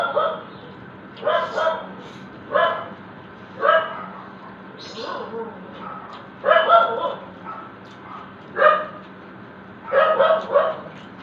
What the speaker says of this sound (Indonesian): Ada anjing saya lagi gonggong-gonggong.